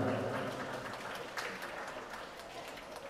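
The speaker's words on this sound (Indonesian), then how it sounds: "itu berikan kita tepuk tangan buat Ananda, yaitu Ananda Zulfan." Audience applause at a primary school year-end and Qur'an memorization ceremony, a dense wash of clapping from a crowd indoors, fairly faint and fading slightly over three seconds.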